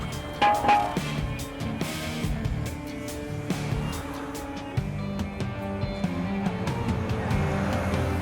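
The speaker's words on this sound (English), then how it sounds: "Traffic is speeding past in the live lane alongside the hard shoulder, but Marcus can't let it faze him." Motorway traffic speeds past in the live lane beside the hard shoulder, with engines droning and whooshing by one after another at close range and no talk.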